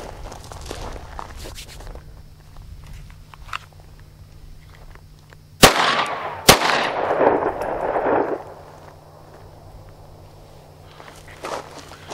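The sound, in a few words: two handgun rounds fired at a target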